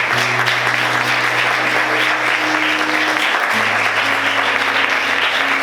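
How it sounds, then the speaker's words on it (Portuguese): A church congregation applauds in loud, dense, continuous clapping that fills the room at an even intensity from start to finish, with faint tonal music underneath. "Aplauda o Senhor com alegria nessa noite."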